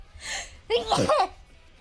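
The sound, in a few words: sneeze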